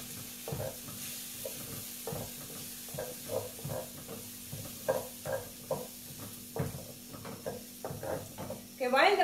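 Garlic frying in a pan, a steady low sizzle under repeated scraping stirs of a spatula at an uneven rhythm, close up, with a brief clatter at the end.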